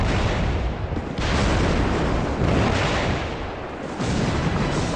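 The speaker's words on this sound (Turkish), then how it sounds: "büyük bir patlama şehri sarsıyor" A factory explosion in Kırıkkale in 1997 produces a loud, sustained roar of blast noise that swells and dips in heavy waves, with a brief lull before surging again.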